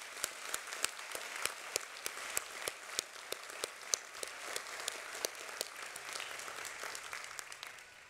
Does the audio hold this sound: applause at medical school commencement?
yes